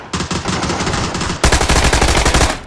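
Machine gun fire in a video game shooter, loud and close: continuous rapid automatic bursts with a crisp rattling rhythm, growing heavier and louder halfway through.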